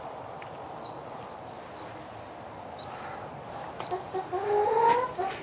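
Free-range backyard chickens cluck in a garden, with a short run of close clucks near the end over quiet outdoor ambience and a brief bird chirp early on.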